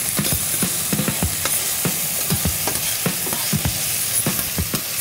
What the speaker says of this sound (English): I'm gonna stir that around a little bit